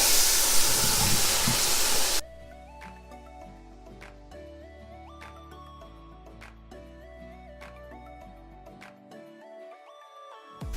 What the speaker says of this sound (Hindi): गोश्त शामिल कर रहे हैं और गोश्त से खूब लहसुन अदरक से बुनाई करेंगे